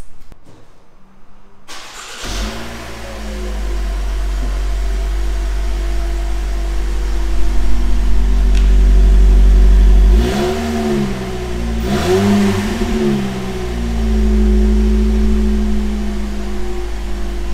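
A new Toyota Voxy fitted with a KUHL Racing muffler starts up, idles with a deep rumble, then revs twice in quick succession before settling back, loud and close.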